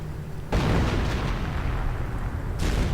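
StuG 42 assault guns shelling an American base in a strategy video game: a heavy, close boom erupts and rumbles on, with a second blast near the end.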